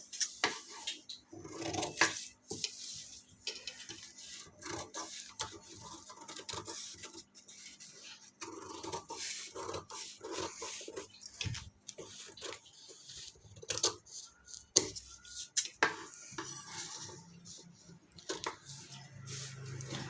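Scissors cut through a cloth sleeve with a run of small snipping and scraping sounds, close and fairly quiet, with some handling noise and a hum.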